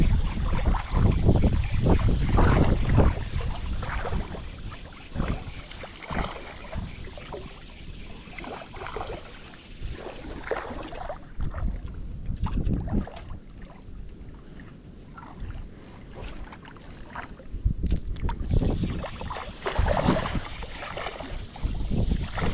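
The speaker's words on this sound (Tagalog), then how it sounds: "Yan na yung bangka-bangka natin." A small boat out on the sea during a barracuda lure-fishing trip, with water sloshing and splashing against the hull in uneven bursts amid gusty wind buffeting the microphone, loud at first then easing.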